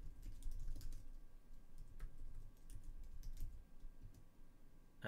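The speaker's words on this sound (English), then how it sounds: "We'll type in a curl" Quiet rapid keystrokes on a computer keyboard as a curl command is typed, irregular clicks and taps in short bursts, close and soft, with no voices.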